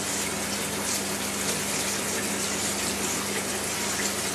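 Tap water runs in a steady, loud, continuous gush over cooked spaghetti noodles to cool them, a close hissing stream with no voices.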